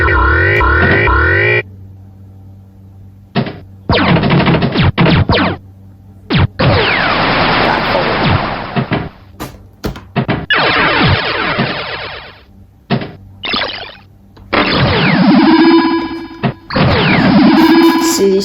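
Windows XP 3D Pinball Space Cadet effects burst out in loud, crashing electronic bursts, clangs and distorted swooshes, separated by brief gaps, with no talk over them.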